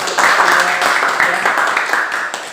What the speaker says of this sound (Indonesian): Boleh berikan tepuk tangan juga untuk